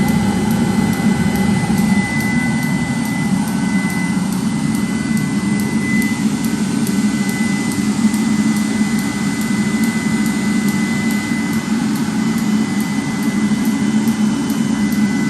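A 30k BTU multi-fuel personal heater runs inside an M35A2 deuce-and-a-half truck, giving a constant close roaring whoosh with a steady low hum and a faint thin whine that hold unchanged throughout.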